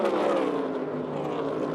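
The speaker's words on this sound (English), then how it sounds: "as we ride on board the Toyota Racing Cam here with John Hunter Nemechek." A NASCAR Cup Toyota race car engine heard from onboard at Kansas Speedway, giving a loud, steady, unbroken roar with no break throughout.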